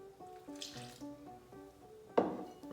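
Water runs from a kitchen tap to top up pizza dough in a bowl, a short close trickle with a brief louder splash near the end.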